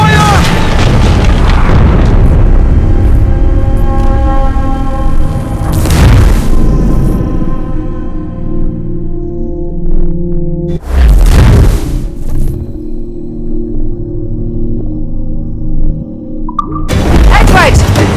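Ship cannons in the pirate game Assassin's Creed Black Flag fire in heavy, booming blasts spaced several seconds apart, each followed by a long rumbling decay, with crew voices shouting between shots.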